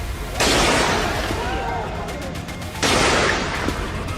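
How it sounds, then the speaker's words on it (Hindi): Two long bursts of heavy gunfire from army and police firing on a crowd at a protest in Pakistan-administered Kashmir, loud and sustained, separated by a short lull with faint background noise. "यहां मुनीर की सेना और स्थानीय पुलिस आवाम पर सीधे गोलियां चला रही है।"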